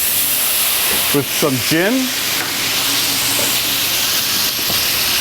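A hot pan holding crispy-skinned chicken breast is deglazed with gin, bursting into loud sizzling and steady hissing that carries through the clip while someone talks briefly over it.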